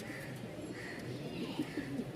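Lahori pigeons give soft, low cooing in a few short, rounded phrases toward the end, close by and moderate in level over a steady background murmur.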